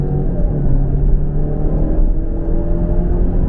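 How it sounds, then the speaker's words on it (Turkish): A 2022 Alfa Romeo Giulia Veloce pulls away from a standstill, heard from inside the car as a steady, loud low engine rumble and whir that builds without a pause. "Şurada bir sıfırdan kalkmaya çalışayım."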